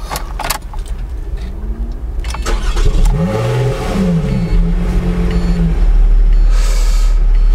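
A Lotus Evora S sports car engine cranks and starts, then revs with rising and falling pitch before settling into a steady, loud idle rumble.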